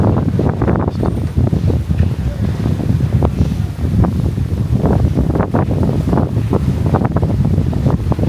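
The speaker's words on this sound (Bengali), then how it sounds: "বাতাস অনেক" Strong sea wind beside old waterfront buildings in Stone Town, Zanzibar, roaring and gusting hard across the microphone in continuous loud buffets, with the ocean audible beneath.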